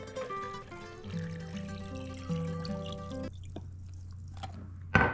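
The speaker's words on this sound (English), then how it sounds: "Now cover in water." Water trickles and pours into a plastic Stasher bag holding dried mole bean meal, with a steady liquid stream that stops abruptly, followed by a faint drip and a brief rustle of plastic at the end.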